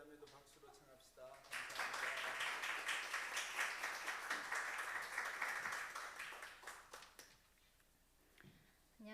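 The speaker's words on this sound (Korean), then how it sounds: "주인자매도 박수로 청합시다" A church congregation at a Sunday service breaks into applause; broad, sustained clapping rises after a short pause, holds for several seconds, then dies away as a voice takes over.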